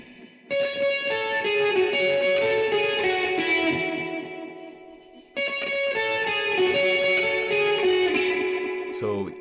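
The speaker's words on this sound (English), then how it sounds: "that little synth melody. I've arranged it for the electric guitar." An electric guitar with distortion and chorus-style effects plays the synth melody from a song. It sounds as two lush, sustained phrases with ringing layered notes and a brief gap between them.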